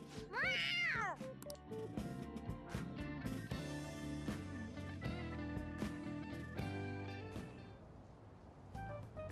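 A cat meows in the Persona 5 video game, a clear, loud rising-and-falling cry right at the start, followed by steady game music with notes that carry on to the end.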